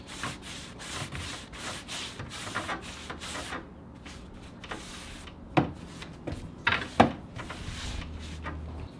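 Clear wax is rubbed and blended by hand over painted wood, giving a steady soft scrubbing with a few sharper knocks and scuffs toward the end.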